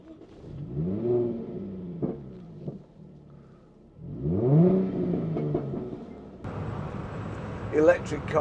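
A Citroen Ami small electric car hums and rises in pitch through a couple of revs, with a whirring tone, then a louder broadband rush.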